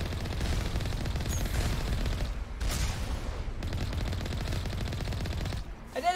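An automated turret in Mass Effect fires continuously, a dense, loud stream of rapid shots and impacts filling the clip with little let-up.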